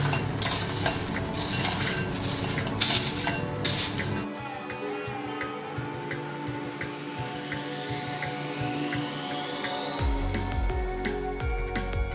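Roasted poha chivda mixture with curry leaves being stirred in a bowl, giving a steady run of light clinks and scraping rattles that sound close up, with no talk.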